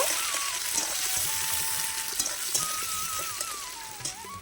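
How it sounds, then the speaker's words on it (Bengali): Chopped onions fry in oil in a pot over a clay wood-fired stove, a steady dense sizzle and crackle running continuously at close range with no talk. "তারপর আমি দিয়ে দিলাম পেঁয়াজগুলো একটু লাল লাল করে আমি ভেজে নেব"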